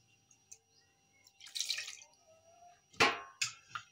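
A little water poured into a ground paste of ginger, garlic, coriander and cumin: a few scattered drips and small splashes, then a brief louder pour near the end, close and sparse with quiet gaps between.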